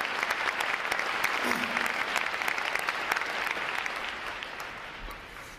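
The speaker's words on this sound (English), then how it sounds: "how about another round of applause for our award recipients?" Sustained applause from a large audience at a Navy recruit training graduation ceremony, steady clapping that slowly fades toward the end.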